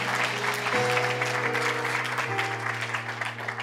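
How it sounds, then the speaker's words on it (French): Sustained applause from a church conference audience honoring the Lord, steady and loud throughout, with music playing underneath. "on peut donner une bonne main d'acclamation pour le Seigneur une dernière fois"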